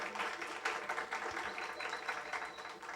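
An audience applauds steadily at a graduation ceremony while a graduate comes forward for her diploma. The dense, even clapping continues throughout at moderate volume, with no talk over it.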